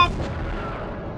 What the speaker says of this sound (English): Okay, let's try and missile him.